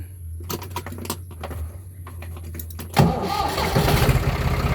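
An earth-moving machine's diesel engine is started, with faint clicks and rattles first, then the engine catches at about three seconds into a loud, rough, rumbling idle that continues to the end.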